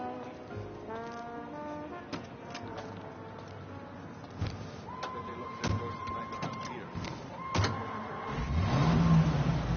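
A car engine drives along in the Mafia video game, a low hum that swells in revving surges, with a few sharp knocks and a sustained horn-like tone over a quiet background.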